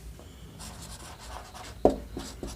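Chalk or marker writing on a board during a physics lesson on friction, a run of quick scratchy strokes with a few sharper taps, close and moderately quiet.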